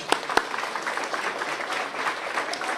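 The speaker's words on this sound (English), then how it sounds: "why don't we give one last round of applause to all of our speakers tonight" Audience applause for the evening's speakers at an unveiling ceremony, steady moderate clapping from a crowd with a couple of sharper close claps at the start.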